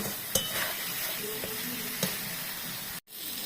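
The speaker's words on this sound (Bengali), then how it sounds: "এখন আর একটু কষানো হবে, একদম তেলটা বেরো" Meat sautéing in hot oil with spices and Kashmiri chilli, a steady close sizzle and hiss with a few soft stirring knocks and scrapes, cut by a brief drop to silence near the end.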